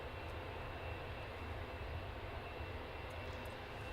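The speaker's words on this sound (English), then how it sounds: "we have got a 777 heading out" A Boeing 777 departs Manchester Airport, its distant jet engines producing a constant, even rumble and hiss that stays level throughout with no voices.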